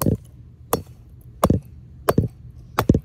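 A hammer smashes toy cars in five sharp, loud, close blows spaced roughly evenly apart, some with a quick double impact, with quiet between strikes.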